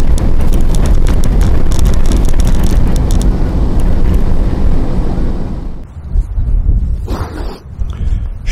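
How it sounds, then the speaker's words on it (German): A car drives over loose ice chunks on a winter road, a loud continuous rumble with bumpy jolts and wind buffeting that eases slightly toward the end. "Ungemütlicher wird es, wenn einzelne Eisschollen auf der Fahrbahn sind."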